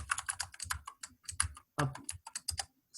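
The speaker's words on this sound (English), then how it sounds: "I'm just typing it for completion." Typing on a computer keyboard, quick uneven runs of close, crisp key clicks with a few short pauses.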